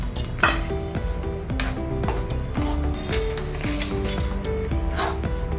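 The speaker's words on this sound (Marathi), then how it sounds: "आता आपण हे नाचणीचे पीठ तुपामध्ये चांगले परतून घेऊया." About half a kilo of ragi flour is roasted in ghee in a pan. A utensil stirs it with rhythmic metallic scraping and clinks, close and steady, while tonal music plays underneath.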